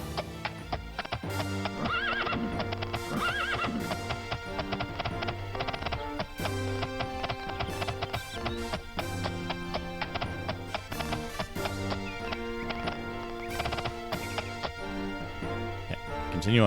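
Horse hooves clip-clopping steadily with repeated neighs and whinnies from a mount in the video game The Elder Scrolls II: Daggerfall, layered over continuous game music throughout.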